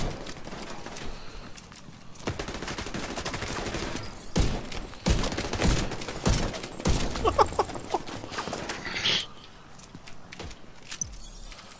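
Gunfire cracks out in the shooter The Division 2, with sharp scattered shots and short bursts at close to mid range, building to a dense volley in the middle before thinning out, with rattling gear sounds and no talking.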